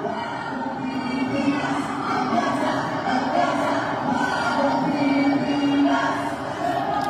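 A large outdoor political rally crowd at a 31 million movement event for PBBM produces a dense, steady roar of many voices, with cheering and murmuring that stay loud and continuous throughout.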